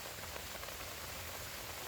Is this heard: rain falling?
yes